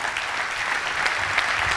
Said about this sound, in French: On peut à nouveau vous applaudir